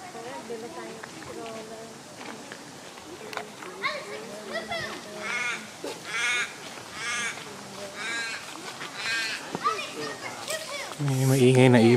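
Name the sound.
noisy bird calling overhead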